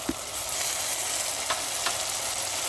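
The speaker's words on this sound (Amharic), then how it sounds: "በቃ እንዲህ ልክ ሲጠበስ ቲማቲም" Tomatoes fry in a pan with ginger, giving a steady, close, even sizzle throughout with a few faint stirring clicks and no talking.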